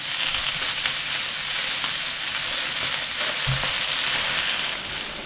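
Black pudding frying on a Ninja Sizzle GR101UK grill plate, a steady loud close sizzle with faint crackles throughout, no voices.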